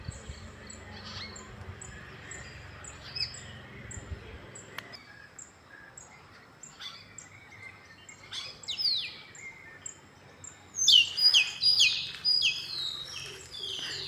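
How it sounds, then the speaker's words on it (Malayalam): Birds chirp and tweet in a morning yard, mostly at a distance, with a low rumble early on before the calls grow louder and busier, closer bursts of rapid chirping near the end; no talking. "ഇങ്ങനെ കിളികളുടെ സൗണ്ട് കേൾക്കാനും ഇങ്ങനെ രാവിലെ മുറ്റത്തിറങ്ങി"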